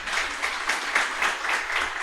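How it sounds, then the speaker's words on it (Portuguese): A church congregation at a Sunday morning service clapping for a pastor, a brief, steady wash of applause heard at moderate distance without speech. "uma salva de palmas para ela"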